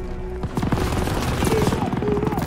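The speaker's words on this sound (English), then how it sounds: "MGs are still sweeping the beach!" Call of Duty: WW2 D-Day beach battle: machine gun fire sweeping the sand in a dense stream of rapid bursts, with rumbling booms beneath and a faint voice.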